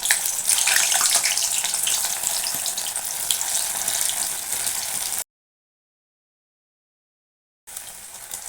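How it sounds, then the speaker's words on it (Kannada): Whole pricked potatoes frying in hot oil give a loud, dense hiss and crackle that fades slightly over time, cuts out abruptly and then resumes. "ಈಗ ಎಲ್ಲ ಆಲೂಗಡ್ಡೆನೂ ಹಾಕ್ತೀನಿ ಫ್ರೈ ಮಾಡ್ಕೊಳ್ಳೋಕ್ಕೆ."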